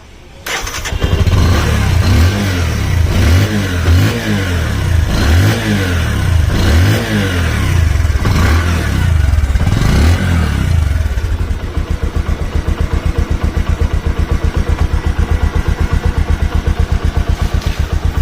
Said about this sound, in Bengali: বাইক কিন্তু স্টার্ট অবস্থাতে আছে, ঠিক আছে, এতটা স্মুথ সাউন্ড